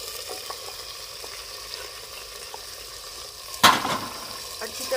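Ground spices (turmeric, crushed red chilli, roasted cumin, coriander powder) with salt roasting in a pan for village-style potato shorba, a soft steady sizzle with faint scraping stirs and one louder clatter near the end.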